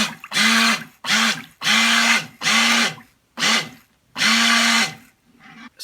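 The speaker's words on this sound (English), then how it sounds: "You do want to avoid splashing yourself with the mixture, so just be careful with the stick blender." Stick blender mixing a soap mixture in repeated loud bursts, about six pulses of whirring motor separated by short pauses, close and alone.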